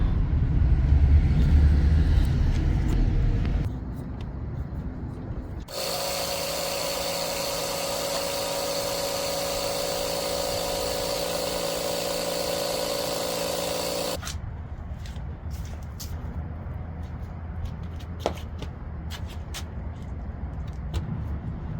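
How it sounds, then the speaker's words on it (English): A slow electric air pump inflating van tires gives off a steady, loud mechanical drone with a constant buzzing hum in the middle of the clip, set between quieter stretches of background noise. "This air pump is slow as molasses, but it gets the job done."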